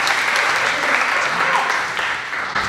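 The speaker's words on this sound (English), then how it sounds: "Please give a massive round of applause for Jamal from Change Please." Steady applause from a crowd, loud and sustained for a few seconds, tapering slightly at the end.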